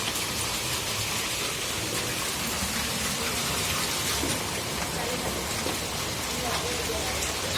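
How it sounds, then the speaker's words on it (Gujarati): Heavy monsoon rain pours steadily and close by outside a home in Junagadh, a dense, unbroken roar of falling water that holds its level throughout with no voices. "ભગવાને દીધો વરસાદ જોરદાર"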